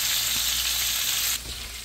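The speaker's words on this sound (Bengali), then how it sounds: "একটা পাতিল বসে তেল দিয়ে পেঁয়াজটা দিয়ে দিয়েছি। পেঁয়াজটা একটু ব্রাউন কালার করে নেব।" Onion frying in oil in a pot produces a loud, bright sizzle that drops suddenly to a quieter hiss near the end, close by and with no talking.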